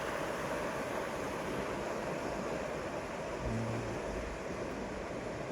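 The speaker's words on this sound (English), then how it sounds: "Got these rapids here." River rapids flow in a steady, dense, loud rush of water at a forest campsite along a trail, continuous and close with no voices.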